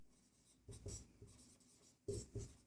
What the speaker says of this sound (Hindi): यहाँ लिखेंगे